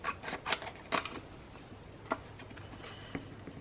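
Scissors cutting two fabric pieces apart for quilted corner pockets, a few quiet crisp snips in an uneven rhythm, close and faint, with soft handling rustle between cuts.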